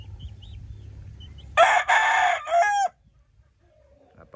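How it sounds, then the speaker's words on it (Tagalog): A rooster crows loudly and close by, one long drawn-out call, preceded by a low hum and followed by quiet. "napakagandang manok."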